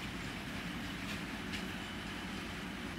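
A cross-Canada passenger train rolls steadily along the tracks with a constant low rumble and rhythmic wheel clatter, heard from inside a carriage.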